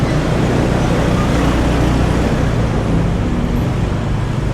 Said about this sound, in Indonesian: Mobil banyak juga lewat sini ya.